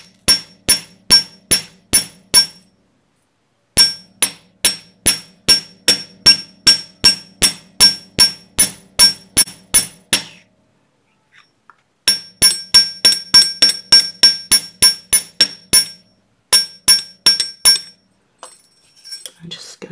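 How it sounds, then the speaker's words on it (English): Steel hammer striking a metal wire pendant on a hard block to harden and flare its sides, a steady run of sharp, ringing close taps in three long bursts separated by brief pauses, with no talk. "I'm just going to hammer to harden and flare these sides and then tap into the straightaways towards the points."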